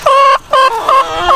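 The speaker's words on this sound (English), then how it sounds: "We've got old chickens, old hens, and some young hens, right?" A backyard flock of laying hens, old and young: close, loud, drawn-out clucks and squawks in several overlapping calls that rise and fall over a second or so, with no voices.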